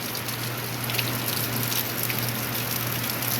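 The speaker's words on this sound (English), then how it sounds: "it's real heavy rain for a few minutes and then it'll calm down normally." Heavy tropical-storm rain from Hurricane Idalia on the coast, a steady close roar of downpour hitting surfaces, even and unbroken for the whole stretch with no voices.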